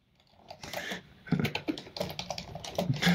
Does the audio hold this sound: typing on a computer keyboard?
yes